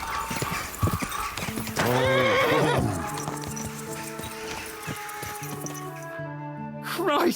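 Horse in Kingdom Come: Deliverance II running with rhythmic clip-clop hoofbeats, a loud whinny partway through, and a game music score underneath, the galloping close and steady.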